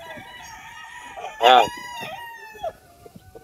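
A rooster crows at a game farm, one loud, close crow rising sharply in the middle of the clip, with clucking and a brief spoken word around it.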